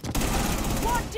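Rapid automatic gunfire from a shooter video game rattles loud and close in one continuous burst lasting about a second.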